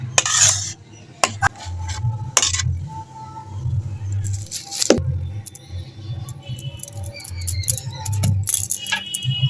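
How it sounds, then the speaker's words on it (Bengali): Thick raw-mango pulp poured into a metal plate, with a few sharp metallic clinks and scrapes of utensil against the plate over a low steady kitchen rumble, close and moderately loud. "এবার আমের কাঠটা আমি ঢেলে দিচ্ছি।"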